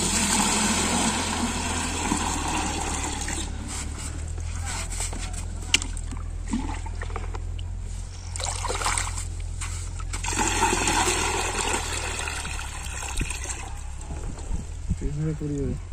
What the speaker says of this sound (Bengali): এখন পানি লোড করতেছে